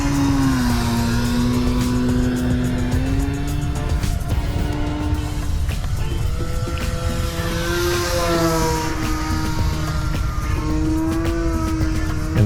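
A Turbo Timber Evolution electric RC plane flies 3D stunts, its motor and propeller giving a loud, continuous whine that rises and falls in pitch as the throttle and distance change.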